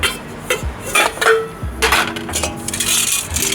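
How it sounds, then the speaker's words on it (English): Aluminium pots from a Trangia 27 series camping stove knocking and clinking together, a series of irregular close metallic clanks and bumps with short ringing tails, no speech. "I have 2 aluminium pots."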